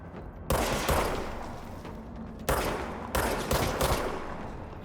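Enemy gunfire in the video game Control, coming as several loud bursts of rapid shots separated by brief quieter gaps.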